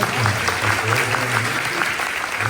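Sustained applause from a conference audience, many hands clapping steadily throughout with a faint murmur beneath.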